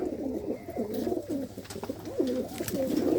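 A grey pigeon with red eyes coos in repeated rolling phrases, close and fairly loud, over a low background hum with no talking.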